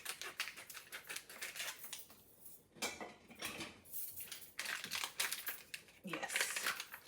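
A collagen tablet packet is snipped and crinkled open, sharp plastic crackles and cuts in uneven bursts, close and fairly quiet, with a voice talking in between.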